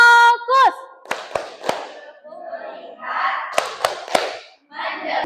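A group plays the rhythmic clapping game tepuk fokus, with sharp, loud hand claps landing in short bursts of two or three between spoken calls and group voices.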